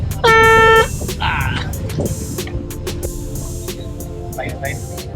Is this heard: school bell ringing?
no